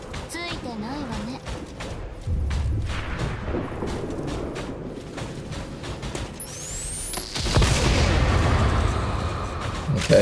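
Gunfire in the XCOM 2 strategy game, played with the Beyond Legendary mod pack, sounds as booming shots over a dense game soundscape. A sweeping whoosh comes near the end.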